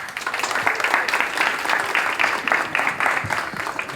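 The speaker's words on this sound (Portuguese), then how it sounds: "palmas para ele" A small group on an outdoor walking tour in Belém's Campina neighborhood claps together, dense hand claps rising and falling in steady bursts for several seconds, fairly near.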